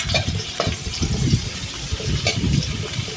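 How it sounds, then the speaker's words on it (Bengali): Chopped onion and green chili frying in oil for a hilsa fish and taro curry, a close crackling sizzle with stirring, steady for a few seconds with no voices. "এখন এর মধ্যে দিয়ে দিলাম পেঁয়াজ আর কাঁচামরিচ কাটা এগুলো ভালো করে তেলের সাথে ভেজে নেব"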